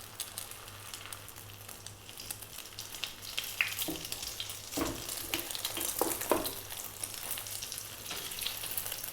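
Egg and cheese sandwich frying in a pan, a steady close sizzle that swells midway as more egg is poured in, with a few clinks and scrapes and no voices.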